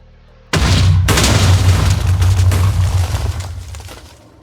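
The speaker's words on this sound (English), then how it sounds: "let's explode it" An explosion in Minecraft Bedrock Edition, a loud sudden boom with heavy low rumble and crackling debris that rolls on for a few seconds before fading out.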